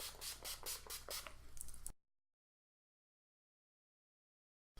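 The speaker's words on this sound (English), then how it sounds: "I'm just gonna be using my Urban Decay De-Slick Makeup Setting Spray" Several quick bursts of Urban Decay De-Slick Makeup Setting Spray hiss in rapid succession, then silence follows, broken by a brief click at the end.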